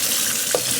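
Cherries being rinsed by hand in a sink of warm salted water, a brief close splash and swish against a steady running-water wash, with no voices.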